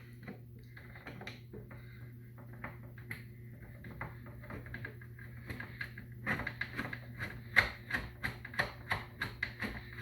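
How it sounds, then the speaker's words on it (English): A flathead screwdriver turns a Torx screw on a Krups EA81 coffee machine, giving faint clicks at first, then a quickening series of sharper metallic ticks and scrapes over a low steady hum. "for this Torx you can also use a flathead screwdriver like this"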